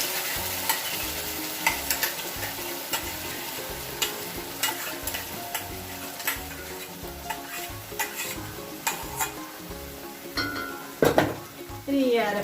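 Ground spice paste spluttering and sizzling in hot oil in a pan, with a spoon stirring and clinking against the metal in steady, repeated strokes close by; a busier clatter of utensils comes near the end.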